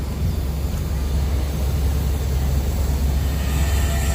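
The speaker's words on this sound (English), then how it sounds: "the arrival of the train." A train arriving at Chumphon railway station in Thailand, a loud, steady low rumble of rolling wheels and engine that fills the whole stretch.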